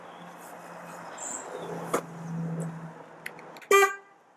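A motorcycle horn gives a short, sharp blast near the end, preceded by faint outdoor ambience with crickets chirping and a few small clicks, fairly quiet overall.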